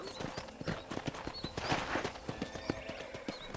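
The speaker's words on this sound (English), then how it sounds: "let's see if you can still ride a horse" Horse hooves clip-clop at a steady riding pace in the video game Red Dead Redemption, a close rhythmic beat over a ranch, with a few faint whinnies and ambient sounds mixed in.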